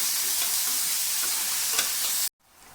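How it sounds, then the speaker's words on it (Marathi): Finely chopped onions hit hot oil already tempered with mustard seeds and asafoetida, giving a loud, continuous sizzle that fills the air before cutting off abruptly, leaving a faint quieter hiss afterward. "मी इथे दोन मिडियम साईजचे कांदे बारीक कट करून घेतो चिरून घेतले ते टाकून घेतो"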